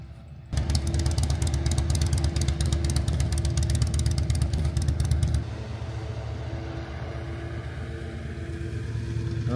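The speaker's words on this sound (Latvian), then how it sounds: "Mocīti." A motorcycle engine idles close by with a loud, dense rumble that starts abruptly, then drops to a quieter steady run partway through, heard alone without talk.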